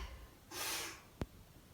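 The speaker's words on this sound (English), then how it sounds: "Big sniff, that's optional." A single big sniff during a beginner yoga exercise, a soft half-second breath of air followed by a brief sharp snort-like burst, close and quiet with no talking.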